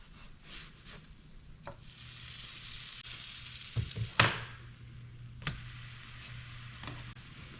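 Pancakes frying in butter in a pan give a steady close sizzle, broken by a few soft knocks and scrapes of a utensil against the pan.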